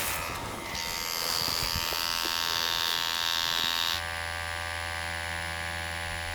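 A tattoo machine buzzes steadily while lines are tattooed into real skin, a close electric hum with a high whine that shifts pitch partway through as the needle works.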